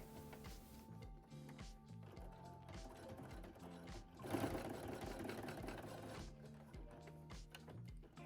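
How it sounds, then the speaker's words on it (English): A sewing machine stitches through the pocket lining of a denim jacket, running in a fast, steady mechanical chatter with a louder, denser stretch midway, close and alone without talk. "Then you're stitching through pocket lining and keeping pocket out of the way."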